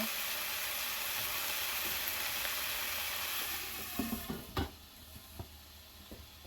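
Ground beef sizzles and crackles steadily in a hot pan while being caramelized for meat lumpia, a dense frying hiss that thins after a few seconds into scattered stirring clinks and pops.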